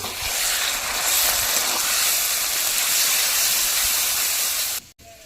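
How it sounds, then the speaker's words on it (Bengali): Salt, turmeric and Kashmiri chilli powder sizzle in a pan while the masala is fried for a prawn and pointed gourd curry; a loud, steady hiss runs throughout and then cuts off abruptly near the end. "সব মশলা এবার একসাথে ভালো করে কষিয়ে নেব"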